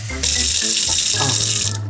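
A strong stream of tap water pours into a large sink, a loud continuous rushing splash that runs almost two seconds with a low hum beneath it.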